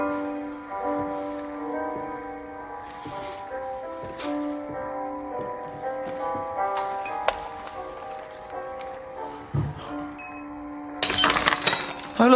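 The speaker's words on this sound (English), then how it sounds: "If I drop a glass on the floor, you pick it up." A glass dropped onto a floor shatters in a sudden bright crash near the end, cutting across a steady bed of sustained music.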